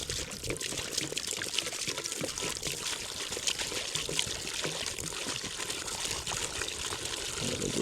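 Water poured from a container into a farm animal waterer indoors in a basement, a steady close splashing trickle running throughout at moderate volume.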